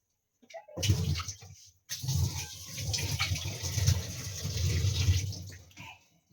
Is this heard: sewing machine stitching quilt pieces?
no